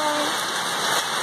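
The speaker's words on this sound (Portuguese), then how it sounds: "Olha, gente, isso tudo é granizo." Hail falling on an orchard yard in steady, dense broadband patter that stays loud and continuous, like heavy rain striking surfaces, with no voices.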